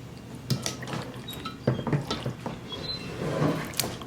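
Ravioli in sauce being spread across the bottom of a baking pan, giving soft wet squishes and a few light clicks of a utensil against the pan, close and fairly quiet.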